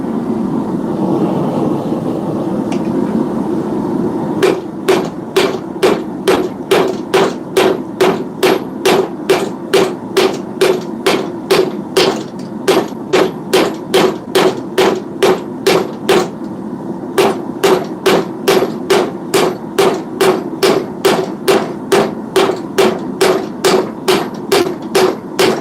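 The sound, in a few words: hammer forging a railroad spike into a knife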